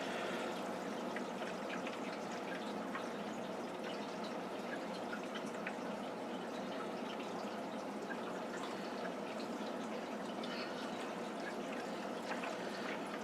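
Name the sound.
aquarium water change siphon draining water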